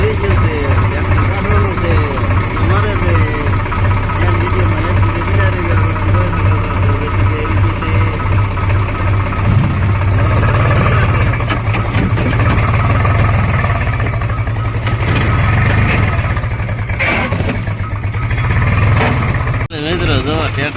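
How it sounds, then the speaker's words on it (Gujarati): A tractor engine keeps running while its load is tipped out, a steady low idling drone throughout, with people talking over it and some clatter toward the end. "મિત્રો જો ટ્રેક્ટર ખાલી કરવાનું ચાલુ કરી દીધું"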